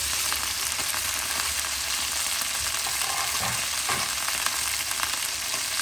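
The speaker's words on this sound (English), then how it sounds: "So you can see that it's browning away really nicely." Lamb shank meat browning in soy sauce in a pot, Fiji style, with a steady, close sizzle and hiss running throughout, broken by a couple of soft stirring knocks and no talking.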